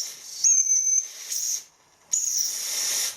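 A repaired horn for a Wilesco steam roller model locomotive sounds in short steam whistle blasts, a sharp high tone over hissing steam with a brief gap, close and fairly loud.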